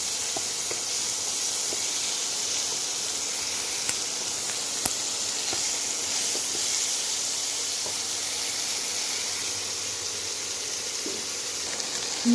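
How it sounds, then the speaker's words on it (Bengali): Prawns rubbed with salt and turmeric fry in a pan for mixed fried rice, giving a steady soft hiss and sizzle that holds evenly throughout, with a few faint clicks and pops and no talking. "তো চিংড়ি মাছটা ভেজে নেব"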